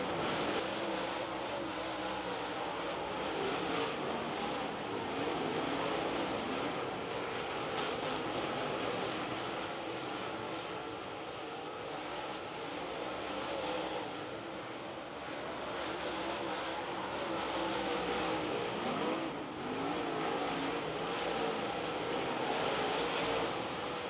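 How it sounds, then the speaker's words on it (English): Race cars roar around a dirt track, a steady, distant engine drone with rising and falling swells as cars pass, continuous and fairly faint throughout. "He's going to pass a bunch of cars as quick as he can in that 28 machine."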